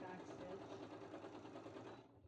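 A sewing machine back-stitches fabric trees with a fast, steady mechanical whir and rhythmic needle chatter, close and fairly quiet, running evenly before cutting off abruptly near the end.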